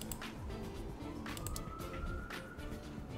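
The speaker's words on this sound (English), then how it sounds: "The police are back. Do you hear the sirens again?" Police sirens wail in the distance with a rising and falling tone, faint beneath a continuous low rumble of background noise.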